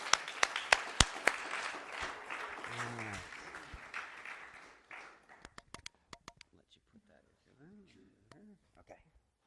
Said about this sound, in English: Let's give a big round of applause for Sherry